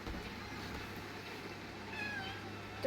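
A cat meows faintly by a window, soft drawn-out calls rising over a low steady background hum in an otherwise quiet room.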